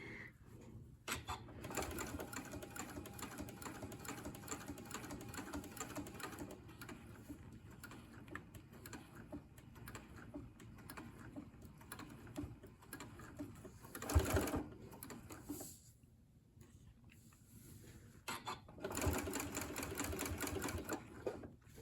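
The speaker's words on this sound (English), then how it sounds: "I'm sewing my 1/4 inch seam allowance and aiming for that spot" Sewing machine stitching quilt blocks with a quarter-inch seam, a fast rhythmic whirring run that pauses briefly a few times before resuming, close and fairly quiet, no talk.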